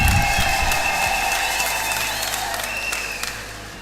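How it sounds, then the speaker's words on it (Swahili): Applause for the children at a church gathering, a dense burst of clapping that starts strong and slowly tapers off. "Makofi kwa watoto."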